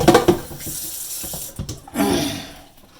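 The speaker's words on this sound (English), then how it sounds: "So I'm going to add the cold water to this." Water runs from a tap into a pot, a steady splashing gush that swells partway through, with a few clinks and knocks near the start.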